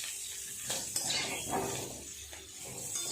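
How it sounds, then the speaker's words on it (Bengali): Potatoes and pointed gourd frying in a little oil with a dash of turmeric, a steady close sizzle broken by soft stirring scrapes across a few seconds. "পটলটা ভেজে নেব আর আলুগুলো ভেজে নেব।"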